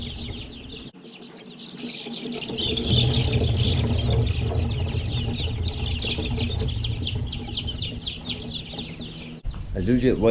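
Week-old Freedom Ranger chicks in a brooder, a crowded, continuous chorus of high peeping and soft clucking from many birds close by, steady throughout with a low rumble beneath.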